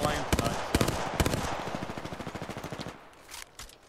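Automatic weapon fire in the battle royale shooter Apex Legends, a loud rapid burst of evenly spaced shots that tails off into a few quieter distant pops, with faint voice underneath.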